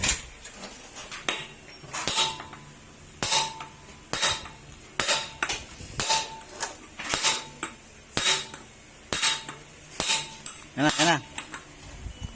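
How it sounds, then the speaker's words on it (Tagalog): Sharp metallic strikes ring out in an irregular rhythm, close by, a hammer pounding on a Honda Click 125 scooter engine part with a noisy connecting rod, with a few clinks between blows. "kailangan natin siyang pukpukin para lumabas to"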